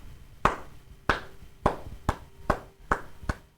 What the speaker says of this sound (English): At which point, you guys hear clapping.